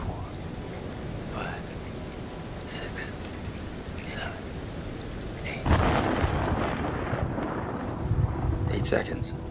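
Thunder from a storm in The Dark Pictures Anthology: Man of Medan video game, a heavy rumbling crack bursting in midway over steady rain-like noise, with game voices and sound effects throughout.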